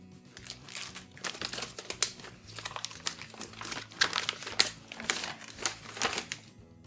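Plastic packaging of a Tien Shan rice vermicelli and spring roll kit crinkles close up in a steady run of sharp crackles and rustles, with no talking.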